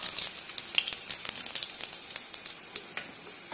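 Cumin seeds fry in hot oil in a wok, a bright crackling sizzle with quick irregular pops throughout, close and fairly soft, with no talking.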